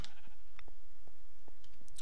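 Sheep bleat in the Minecraft video game, heard as a couple of short bleats near the start and end, with sparse game clicks in between, with no talk.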